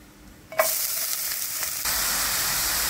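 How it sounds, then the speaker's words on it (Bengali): Finely chopped onions hit hot oil with green cardamom, setting off a sudden loud sizzle that settles into a steady, close frying hiss with a brief stir, no voices. "এবার আমি উপর থেকে ফাইন চপ করা অনিয়নগুলো ঢেলে নেব।"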